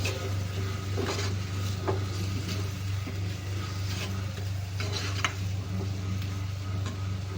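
A spoon stirs and dissolves a spice mixture with coconut paste in a pan for Chettinad prawn fry, giving soft, continuous scraping and light taps over a steady low hum.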